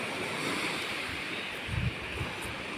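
Ocean surf crashing steadily with a deep, rolling rumble and a low thump near the end, wind noise brushing across the microphone.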